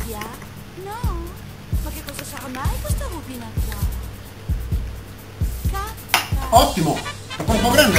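A spoon stirs tikka masala in a pot with repeated scraping clinks against the metal at a steady rhythm, fairly close, while someone talks throughout; the stirring grows busier and more clattery near the end.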